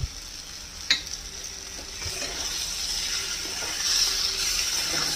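Spicy Nepali potatoes with salt and coriander leaves are stirred in a pan, a gentle scraping and soft sizzle with a single sharper clack of the spoon, close up with a steady faint hiss underneath.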